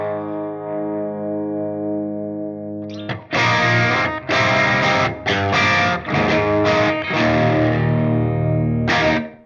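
Electric guitar through the green side of a Protein overdrive pedal: a sustained ringing chord fades, then loud driven chords are struck in several choppy bursts with brief gaps, no voices.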